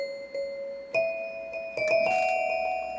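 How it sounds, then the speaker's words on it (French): Bell tones from music software pick out a short melody, a few bright chime notes struck one after another with ringing overtones, clear and fairly quiet with no voices. "les cloches c'est pas mal pour ça"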